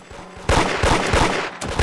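Gunfire in the Roblox game Da Hood, a loud dense burst of rapid shots starting suddenly and continuing almost without pause, briefly dropping near the end before resuming.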